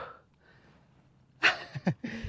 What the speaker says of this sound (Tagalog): Grabe hingal ako.